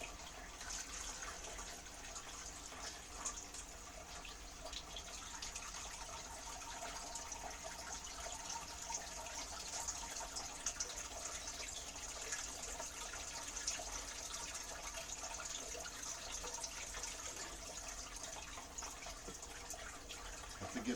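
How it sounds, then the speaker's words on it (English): Water poured into an aquarium filter during fish tank setup, a steady continuous pouring and splashing wash that runs unbroken for the whole stretch, close and fairly loud with no talking. "So we're going to pour the water into the filter."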